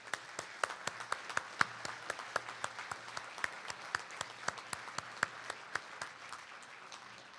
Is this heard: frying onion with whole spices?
no